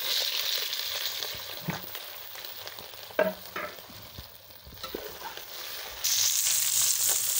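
Baby potatoes and chopped onions fry in a pan, a continuous close sizzle broken by scraping stirs and occasional clinks of the spoon, the sizzle swelling louder near the end.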